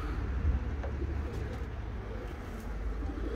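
Pigeons coo softly in a low, steady murmur, faint and somewhat distant, with no voices and a light background hiss.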